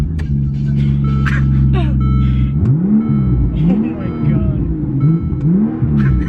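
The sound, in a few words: Mercedes G65 AMG straight-piped V12 engine revving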